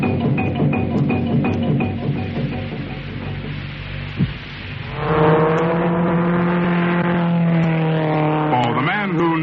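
A car engine drones and revs in several rising swells, close and fairly loud, with a louder acceleration surge in the second half.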